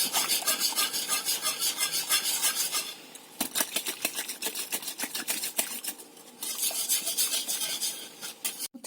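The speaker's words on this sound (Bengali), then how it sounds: "দইটা দিয়ে খুব ভালো করে মিশিয়ে নেব দুধটাকে আমি" A spoon scrapes and stirs yogurt into lukewarm milk in a pan, making repeated rhythmic metallic rubbing strokes, close and fairly loud, with a brief pause midway before the stirring resumes.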